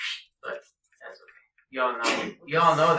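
A single abrupt sneeze bursts out in a classroom during a geometry test review, loud and close, among people talking.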